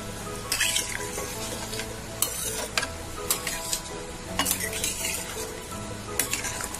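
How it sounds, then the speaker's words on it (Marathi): Ground masala spices stirred with a spoon in a pot for spicy chicken gravy, scraping and clinking steadily against the metal over a constant sizzle, with sharp scrapes recurring through the whole stretch. "मस्त सर्व मसाले मिक्स करून घेऊ."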